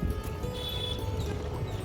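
Oars pull a rowboat across a lake at Nainital, with a continuous low wash and gurgle of water against the hull close by, steady and unbroken across a short stretch.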